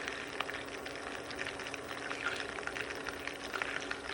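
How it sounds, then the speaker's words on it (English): Butter crackles and sizzles in a pan as it melts into ghee, a dense, steady fizz with small pops scattered throughout, heard up close without talking. "I'm going to let you listen in on how the butter crackles when ghee is being formed."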